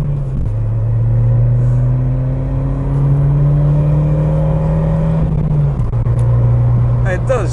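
A Ford Escort RS Cosworth engine pulls hard from inside the car, a loud droning note rising steadily in pitch through a short first gear, dipping at a shift and climbing again, with speech faintly underneath.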